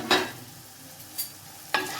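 Onions and tomatoes softened into a gravy in a pan, stirred with a couple of brief scraping strokes against a faint background sizzle, close by and without talk.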